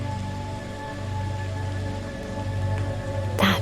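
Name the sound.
rain falling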